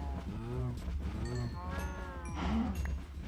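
Many cows crowded in a leaf-walled pen in Minecraft, with overlapping low moos, several in a row and layered over each other, fairly close and continuous.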